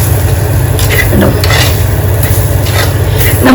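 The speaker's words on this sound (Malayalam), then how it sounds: "ഇതിൻ്റെ പച്ചമണം പോകുന്ന വരെ നമ്മൾ നന്നായി ഇളക്കി കൊടുക്കണം കേട്ടോ" Crab roast masala with garam masala is stirred in a pan with a constant, loud, close scraping and a sizzle underneath, continuous for a few seconds with a low background hum.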